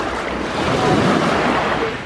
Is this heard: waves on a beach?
yes